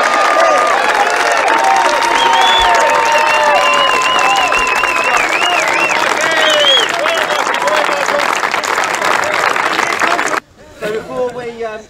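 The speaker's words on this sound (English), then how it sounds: "Can we have a massive round of applause for today's runners-up" A large crowd claps and cheers loudly and continuously at a cricket T20 cup final, whistles and shouts rising above the applause before it cuts off near the end.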